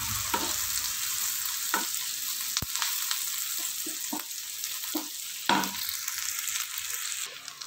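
Green chillies fry in oil in a pan for a cabbage stir-fry, a close, continuous crackling sizzle with occasional sharp pops and light stirring scrapes throughout.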